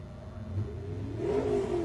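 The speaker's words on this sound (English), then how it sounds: "we got another shot there of a trophy truck going through there" A Baja 400 trophy truck at the 2021 off-road race, its engine droning at moderate distance, then swelling into a rising rev as it passes, with no voices over it.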